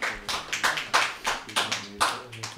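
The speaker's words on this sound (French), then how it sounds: "On peut applaudir ce petit." Several pairs of hands clap on a French radio show, a short burst of roughly eight distinct, close claps in an uneven rhythm, with no voices over them.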